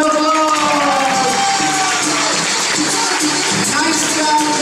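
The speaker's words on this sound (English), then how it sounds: "please give Jesse a great big round of applause" An audience of children and adults at a Simon Says party game gives Jesse a big round of applause, a dense, steady wash of clapping and crowd noise mixed with music and voices.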